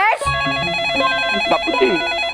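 A telephone rings with a loud electronic bell-like warble that repeats steadily through a short burst, and a voice talks briefly at the start.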